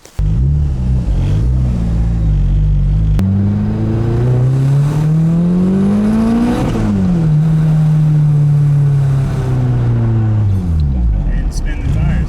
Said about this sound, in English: And spin the tires that time.